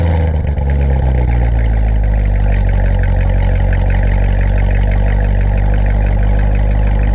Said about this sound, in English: The official intro should have been exhaust note, and then you heard the car start.